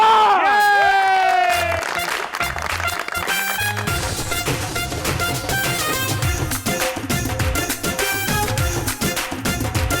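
A studio audience on a Pakistani TV talk show cheers and claps to welcome a female guest, a musical sting opening over shouting and whooping, then lively applause and cheers continuing under loud music.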